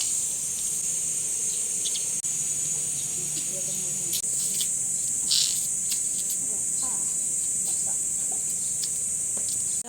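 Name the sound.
crickets chirping at nature resort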